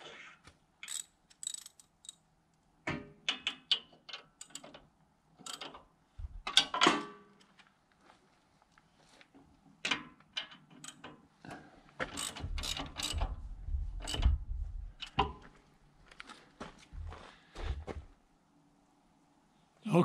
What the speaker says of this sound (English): So we're going to tighten up these nuts.